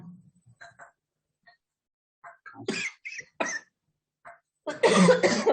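Several bursts of coughing, a few small throat sounds first, then louder hacking coughs close by, ending in a long harsh fit.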